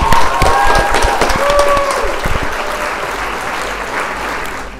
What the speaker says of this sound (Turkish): Alkışlıyoruz Yorgo'ya.